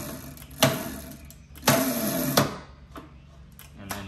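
Razor MX350 electric scooter motor, the stock 350 unit, powered by drill batteries, whirring up in two bursts of about a second each with quieter gaps between, close and fairly loud.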